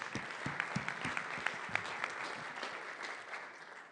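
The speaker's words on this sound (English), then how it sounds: "Yeah, big round of applause first." Applause at a security conference talk: a modest audience claps with distinct, separate hand claps at first that blur into a softer, fading patter, fairly quiet overall.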